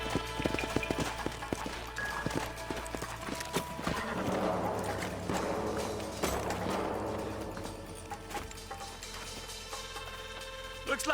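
Horses gallop in the Western video game Red Dead Redemption, a continuous run of hoofbeats with creaking tack and background game sounds, close and fairly loud.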